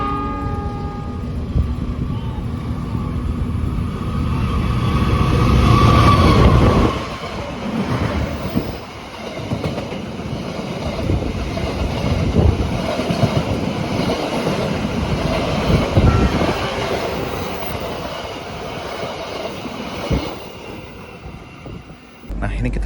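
A passenger train, the Blambangan Ekspres in Indonesia, rumbles steadily along the tracks, loud and continuous, with clatter and wind rushing past and faint voices in an economy-class carriage, nearing Probolinggo station.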